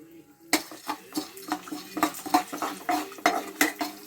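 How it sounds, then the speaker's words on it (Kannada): Chana dal, urad dal, moong dal and mustard seeds are stirred in hot oil, with a metal spoon scraping and clinking against the pan in quick, uneven strokes close by. "ಇವಾಗ ಕಡಲೆಬೇಳೆ ಮತ್ತು ಉದ್ದಿನಬೇಳೆ, ಹೆಸರುಬೇಳೆ, ಸಾಸಿವೆ ಇದಿಷ್ಟನ್ನು ಹಾಕ್ಕೊಳ್ತಾಯಿದ್ದೀನಿ"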